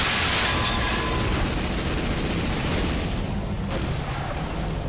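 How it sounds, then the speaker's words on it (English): Exploding barrels go off in the video game Metal Arms: Glitch in the System, giving a loud, roaring blast that fills the whole stretch and then drops off into rumbling debris noise. "I'm just gonna drive through some exploding barrels."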